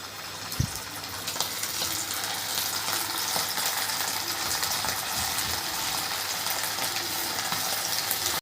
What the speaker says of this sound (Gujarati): હવે આપણે એમને ઓઇલની અંદર ફ્રાય કરીશું